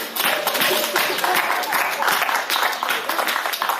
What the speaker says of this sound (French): Vraiment, applaudissez-vous.